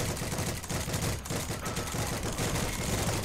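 Dense, continuous gunfire and explosions rattle through a tank battle on a hilltop beside an airfield in the Heroes & Generals video game, with loud overlapping shots and no talk.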